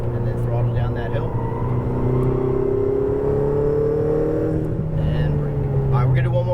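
Ferrari 488 GTB engine accelerating hard on a track, a strong steady drone with rising harmonics as the throttle opens, close and loud throughout, with a voice talking over it.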